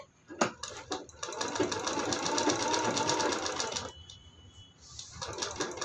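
A sewing machine runs steadily for several seconds while stitching a long-sleeve blouse, with a few short starts before the continuous whirring and a brief slowdown near the end.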